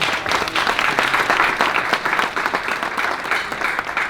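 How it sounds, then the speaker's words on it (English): A luncheon audience gives sustained applause for event sponsors, with dense, steady clapping from many hands filling the room for several seconds. "A little round of applause for our sponsors."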